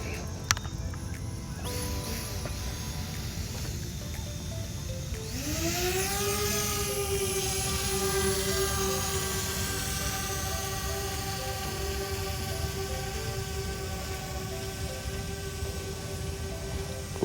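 A DJI Spark drone spins up and lifts off nearby, with a click and rising motor whine that settles into a steady, loud high-pitched buzz of propellers, no talking.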